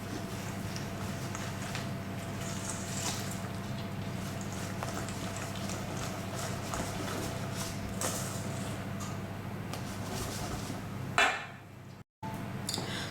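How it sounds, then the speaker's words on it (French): Chopped pecans are stirred into thick brownie batter in a bowl, producing a continuous scraping and clinking of utensil against the bowl, steady and close, ending with a brief clatter and a sudden cut. "Je mélange."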